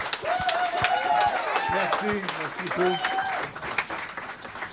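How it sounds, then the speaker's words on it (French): Audience applause at a live Christmas comedy show in a venue, clapping steadily throughout while someone speaks over it near the microphone. "Une bonne main d'applaudissements."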